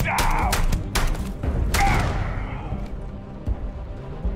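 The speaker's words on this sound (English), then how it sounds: "those random explosions that happen when we're fighting the pirates" Explosions erupt during a pirate fight in the Starfield video game, several loud booming blasts in quick succession over the first two seconds, then fading rumble with a couple of faint later thumps.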